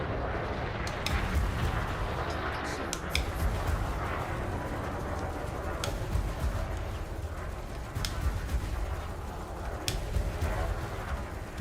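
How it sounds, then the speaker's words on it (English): Concord cannons fire in the space game Elite Dangerous, a run of sharp booming shots over a constant low rumble of ship noise, with no one talking. "Listen to the sound of these Concord cannons."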